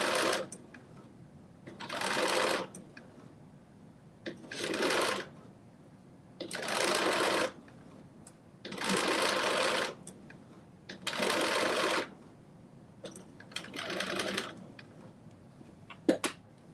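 A domestic sewing machine stitches a seam just beside a basting stitch on dressy jogger trousers, running in six or seven short bursts of a few seconds each, with brief pauses between for pivoting, close and steady.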